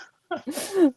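A single short sneeze, a quick sharp intake followed by a voiced burst, close and fairly loud.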